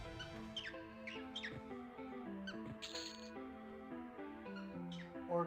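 A small pet bird creature in an online fantasy role-playing game squeaks in quick, high chirps, repeating in bursts over a steady tonal game soundtrack.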